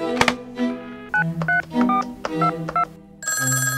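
A telephone is dialled with a quick run of distinct touch-tone beeps of varying pitch, then begins a bright electronic ring, all fairly quiet and with no talk.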